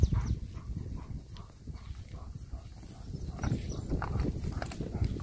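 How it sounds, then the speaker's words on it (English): A red roan gelding wades through a creek, giving a steady rough splashing and churning of water with dull hoof thuds throughout, close by and with no speech. "Here is Picasso going through the second creek."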